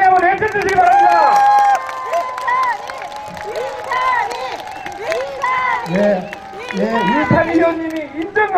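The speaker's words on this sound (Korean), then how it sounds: "우리 이탄희 의원 큰 박수로 이탄희 의원 외쳐주시기 바랍니다" An outdoor campaign rally crowd at a public market in Yeongcheon cheers, claps and chants a lawmaker's name. Loud, dense voices and cheering carry on throughout with steady clapping underneath.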